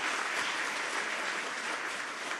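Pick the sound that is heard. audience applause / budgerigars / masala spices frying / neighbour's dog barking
audience applause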